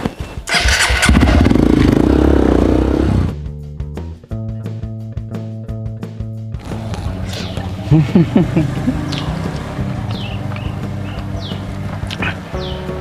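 Motorcycle engine starting and idling with a steady low drone, running loud after a burst of mixed noise, with faint chirps and other activity in the background.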